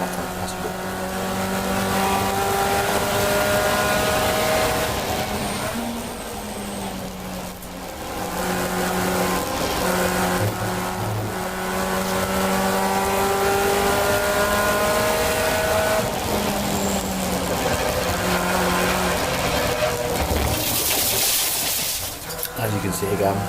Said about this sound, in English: all the cars that you're now seeing coming past us here are Class A and B cars